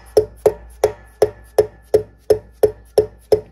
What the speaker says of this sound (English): I'm actually using a dead blow mallet.